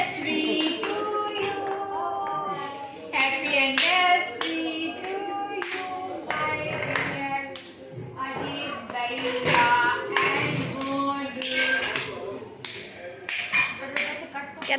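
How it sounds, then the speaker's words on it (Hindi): Hands clapping at a home anniversary celebration, sharp close claps in irregular clusters mixed with taps and shuffling, while people keep talking over and between them. "ताली बजा रहा है विक्रम को।"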